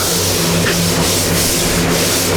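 Coarse 80-grit sandpaper on a sanding block scrubs steadily across primed car bodywork, a close, continuous rubbing rasp over a low background rumble.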